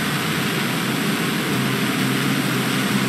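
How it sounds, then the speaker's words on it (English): Airplane engine roaring steadily in flight in the video game Just Cause 2, a loud, continuous broadband drone with no pauses throughout. "Is the plane seriously gonna keep going?"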